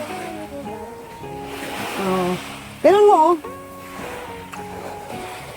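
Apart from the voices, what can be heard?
ocean waves on the beach shore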